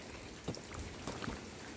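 Rain falls steadily outside in front of a terrace at a bamboo house in a village: a soft, faint, continuous hiss with a few slightly louder patters, and no voices.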